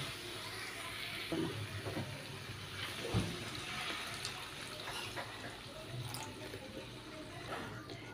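Water splashes and trickles into a pot of jackfruit and potato curry, a steady pouring wash with a few small clinks, moderately close.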